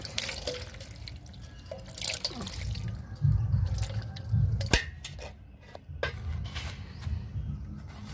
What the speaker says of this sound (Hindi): लौकी को भी अच्छी तरह से धुल लेते हैं।